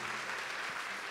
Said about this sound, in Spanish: para Jorge también un fuerte aplauso hoy